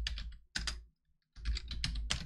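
Close, crisp clatter of typing on a computer keyboard, in two dense bursts of keystrokes separated by a short silent pause.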